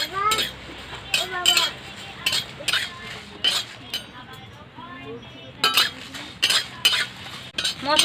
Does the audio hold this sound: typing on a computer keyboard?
no